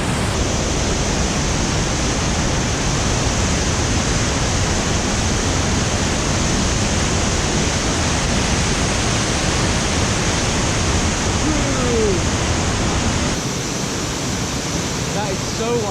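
Rushing flash flood water and a waterfall in Indonesia roar as a dense, steady, loud wash of noise that continues unbroken throughout, with no clear voices above it.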